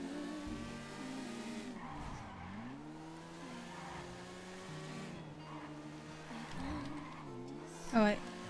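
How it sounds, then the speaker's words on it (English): Racing video game car engine drone with tires skidding under hard braking, a sharp squeal near the end, while a person talks over the steady motor noise. "I braked way too much there"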